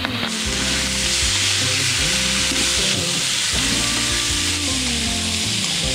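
Seafood frying in a pan and starting to burn, a loud, continuous sizzle with crackling spatter running unbroken from start to finish, with no voices over it.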